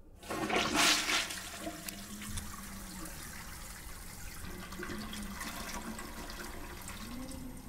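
A toilet flushes in The Exorcist: Legion VR video game, a loud rushing burst of water at the start that eases into a long, quieter trickle as the tank refills.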